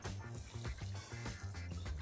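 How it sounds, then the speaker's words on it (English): Water pours into a cooking pan of frying tomato, onion and cashew mixture, a steady splashing liquid rush over a continuous sizzle, close and without talk. "I'm going to add in some water."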